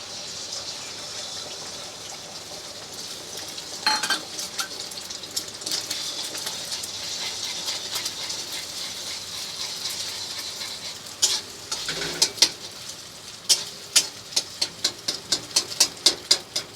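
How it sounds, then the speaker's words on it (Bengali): Eggs fry in hot oil in a pan with a steady close sizzle, followed by a run of sharp, rhythmic taps and scrapes of a utensil toward the end, with no speech. "এবার ডিমটা ভাজা হবে।"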